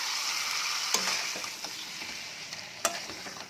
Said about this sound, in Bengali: এবার এটাকে আর একটুখানি কষিয়ে নেব